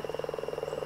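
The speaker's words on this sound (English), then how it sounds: "Frogs are known for their unique mating calls" A frog gives a rapid pulsing croak, a quick train of repeated throaty notes in a mating call, close and clear over a faint steady background hum.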